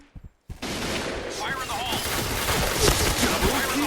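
Rapid automatic gunfire from the online shooter Point Blank, a dense sustained burst of shots running nearly continuously after a brief pause, loud and close, with a few faint sharp sounds at the start.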